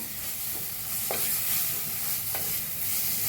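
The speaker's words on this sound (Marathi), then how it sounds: "आता ह्याच्यात टाकूया एक चमचा हळद छान हळदीला बी भाजून घेऊया" Potato masala fries with turmeric in a pan, a continuous close sizzle with a couple of soft scraping stirs and no talking.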